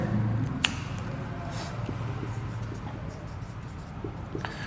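Faint pen strokes as working is written out by hand during a Class 10 NCERT maths lesson on circle area, light scratchy marks spread across a low steady background hum.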